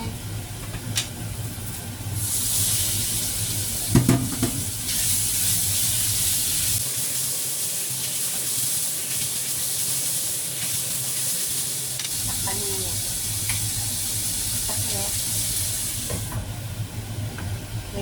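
Meat added to a pan of frying vegetables sets off a loud, sustained sizzle and steamy hiss that swells suddenly and holds steady, with occasional stirring clatter underneath.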